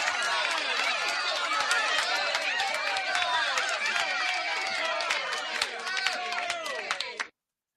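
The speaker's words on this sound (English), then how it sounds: "round of applause for the one and only Blackheart Knight" A crowd applauds and cheers for Blackheart Knight, dense clapping with overlapping chatter and voices, loud and sustained before cutting off abruptly.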